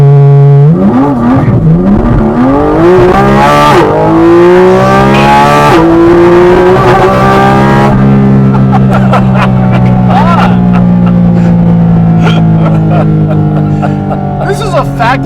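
A Porsche Cayman GT4 RS launches hard from a standstill, its engine note climbing loudly through repeated rising sweeps with brief dips at gear changes, then settling into a steady high-speed drone. Voices talk beneath the engine.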